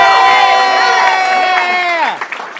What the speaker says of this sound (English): we need more applause than that